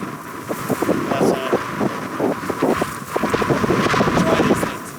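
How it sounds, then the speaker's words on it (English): Strong wind buffeting outdoors in New Zealand, heard as loud continuous roaring gusts with rapid flapping and rattling, likely a golf umbrella shaking in the blasts, up close throughout. "So the wind's coming from that way."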